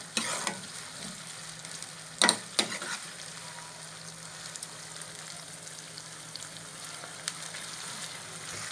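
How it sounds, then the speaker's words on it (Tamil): Sliced onions sauté quietly in a pan, giving a low, continuous sizzle with a few sharp stirring knocks against the pan early on and occasional soft clinks; no voices. "நீட்டமாக கட் பண்ணி வச்சுருக்க வெங்காயம் இருக்குல்ல, அது இந்த அளவுக்கு வதக்குனா போதும்"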